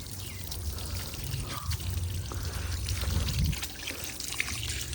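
Water poured over a motorcycle during a wash, a steady splashing trickle running continuously at close range with no voices.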